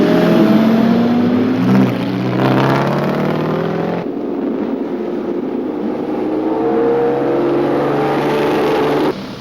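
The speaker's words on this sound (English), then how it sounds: "Bugatti Type 35B" A vintage Bugatti Type 35B racing car at a Basildon Grand Prix retro event, its engine droning loud and close with rising harmonic tones and a sharp shift partway through, steady throughout.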